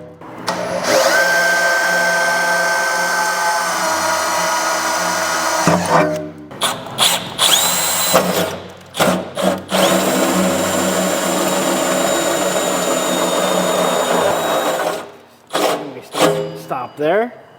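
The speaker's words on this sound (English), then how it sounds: "marking and drilling holes" A power drill whines and grinds drilling pilot holes during an Alu-Cab ModCAP truck install, in several bursts, some long and sustained, others short, with speech mixed between the runs.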